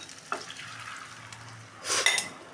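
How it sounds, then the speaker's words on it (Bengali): Boiled dal is poured into a pan where a fish head is frying, giving a short burst of sizzling and splashing after a faint stir and a clink of utensils. "এবার আমি এই সেদ্ধ করা ডালটা আমি এবার দিয়ে দেবো"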